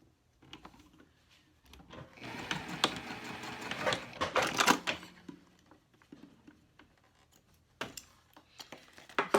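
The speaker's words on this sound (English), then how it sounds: "Next thing I need to sew is my strap together." A sewing machine stitches a cork strap in one close, rapid mechanical run of a few seconds, preceded and followed by quiet clicks and handling sounds.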